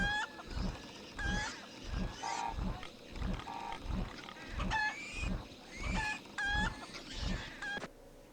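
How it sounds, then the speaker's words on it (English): Chickens from Heroes of Might and Magic IV cluck and squawk in a repeating game effect, rhythmic pulses of clucks with higher squawks, loud and close, no talk over them. "Chickens!"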